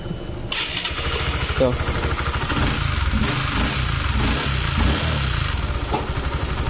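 A cold GTR 150 motorcycle engine, with a fault, starts and settles into a steady idle, the running engine holding loud and continuous under a voice talking throughout.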